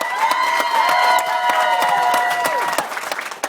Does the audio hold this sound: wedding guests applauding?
yes